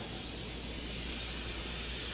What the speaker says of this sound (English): I'm spraying it with brake cleaner and just washing some of the trash out of it